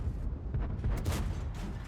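A tank gun fires in World of Tanks with the FV227 Conceiver, a loud deep boom and rumbling blast lasting through the clip, with dense low-end roar and crackling tail.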